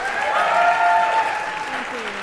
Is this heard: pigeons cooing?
no